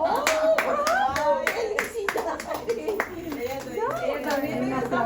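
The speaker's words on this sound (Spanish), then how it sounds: "ahora sí les damos aplausos" A small family group claps for a first communion, an uneven burst of close hand claps mixed with chatter and a voice talking over it.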